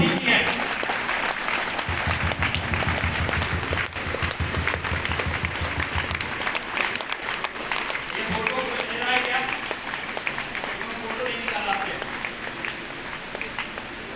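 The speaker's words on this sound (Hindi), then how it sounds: "तालियां बहुत ठीक है।" Audience applause at a crowded DXN program in Banshi Bhawan, Allahabad: a dense, continuous wash of clapping that swells and holds, with voices talking over it.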